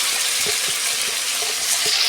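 Fish heads fry in spiced oil in a pan, giving a steady close hiss and sizzle for about two seconds, with a few soft clicks from stirring and no talk.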